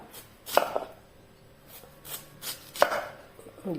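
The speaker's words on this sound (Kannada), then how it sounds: "ಇನ್ನದನ್ನು ನಾವು ರೌಂಡ್ ಕಟ್ ಮಾಡಿಕೊಳ್ಳುವ." A knife slicing a peeled sweet potato into rounds on a board: a handful of crisp, close chopping thuds spaced irregularly, with soft rubbing between them and no voices.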